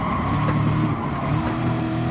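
A race car in a PS4 racing game braking hard into a corner, with a steady, loud engine drone and faint tire noise running throughout without a break.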